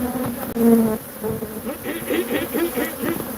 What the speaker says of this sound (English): That's a bee going across the camera.